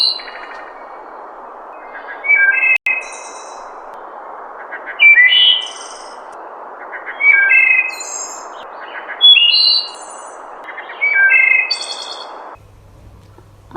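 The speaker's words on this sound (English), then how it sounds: "This is the sound of thrush." A thrush sings short, varied melodic phrases separated by pauses, clear and fairly close over a soft background hiss, repeating about five times.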